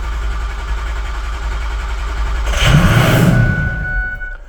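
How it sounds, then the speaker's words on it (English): Used car engine cranking during a compression test, a steady mechanical churn that swells louder midway with a rising whir, then fades as the cranking ends. "Cranking rhythm sounds pretty good."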